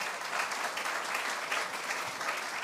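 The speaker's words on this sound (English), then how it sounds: "Let's give him a round of applause." A crowd at a groundbreaking ceremony applauds with steady, dense clapping that carries on evenly without any talking.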